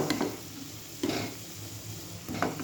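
Katla fish fries in hot oil with a steady sizzle, punctuated by a few sharp stirring or utensil scrapes near the start, around one second and near the end, close and fairly loud, with no talking.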